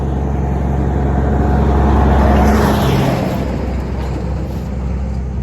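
A car or truck passes along a rural road lined with cut trees, a loud, steady engine and tyre rush that swells toward the middle and slowly fades, heard alone without talk.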